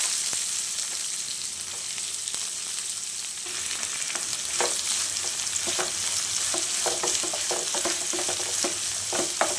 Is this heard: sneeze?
no